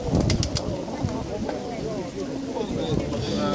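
Shakin broad-tailed pigeons at a bird market, with cooing, rustling and a few sharp wing flaps amid the busy background chatter of people talking nearby.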